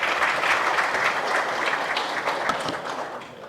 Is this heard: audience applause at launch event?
yes